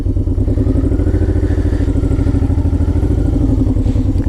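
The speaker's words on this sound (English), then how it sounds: "I like how that revs up." A Honda VTX 1800 cruiser motorcycle engine running steadily and loudly nearby, its deep throbbing rumble revving and holding high for several seconds.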